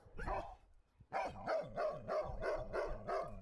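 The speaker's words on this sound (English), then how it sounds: "it's okay if a dog barks and wags its tail at you" A dog barks in a rapid, close series of about seven or eight sharp, steady barks following a single bark and a short pause, with no talking.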